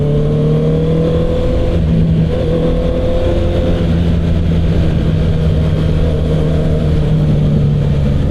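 A Honda CB650R motorcycle climbs an elevated U-turn, its engine a steady, close hum with smooth held tones that rise slightly as it accelerates, over constant wind and road roar with no pauses.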